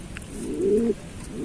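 A single low, throaty coo from a nearby homing pigeon, a smooth rising-and-falling tone lasting about half a second over faint background noise.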